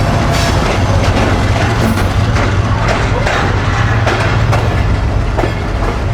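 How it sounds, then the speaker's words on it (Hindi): A Pakistan Express passenger train rumbling past close by, loud and continuous, with rolling wheel clatter, rhythmic clickety-clack over rail joints and occasional metallic squeals along the whole passage. "चलें जी, पाकिस्तान एक्सप्रेस भी गई पीछे।"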